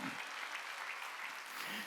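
A church congregation at a Wednesday worship service applauds together, and the clapping stays dense, even and sustained from start to finish.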